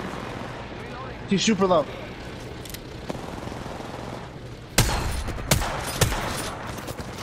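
Sharp bursts of gunfire in a competitive shooter video game, with a few loud close shots near the end and people talking over them.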